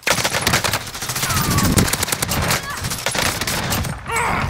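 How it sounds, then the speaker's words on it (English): Light machine gun fire in Call of Duty: Warzone, a sustained rapid burst of loud, dense shots running nearly the whole time, with a brief excited shout from a player over it. "You might want to grab your light machine gun."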